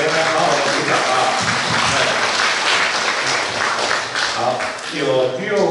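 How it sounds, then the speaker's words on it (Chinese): An audience at a church Bible-study training session applauds warmly in a sustained, dense roll of many clapping hands, with a few voices rising near the end. "来，再给他们好好的鼓掌啊！"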